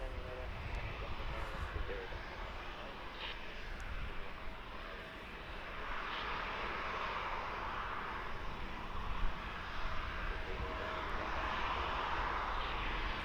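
A Jet2 airliner, one of the newer aircraft in the fleet, runs its engines at Birmingham Airport, a steady broad roar that swells gradually toward the end, heard from a distance with no talking.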